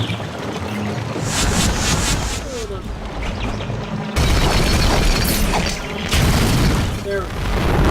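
Fireworks bursting in a Spyro the Dragon game, several loud booms and crackles in separate bursts over game sound, with someone talking over part of it.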